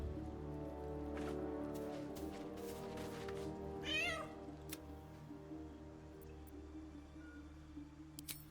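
A cat meows in Baldur's Gate 3, with a short rising call near the middle over a steady layer of game ambience and music. No one speaks.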